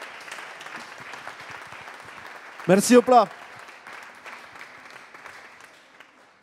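Audience applause in a hall at a carnival show, a broad steady clatter of clapping that runs throughout, with a voice calling out briefly over it near the middle.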